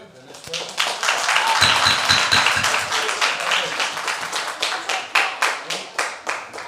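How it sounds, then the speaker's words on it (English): Audience claps at a city council meeting, building into brisk applause and then thinning to a slower rhythm of separate, fairly close hand claps as it dies down. "If you keep on applauding, and then you shorten your time"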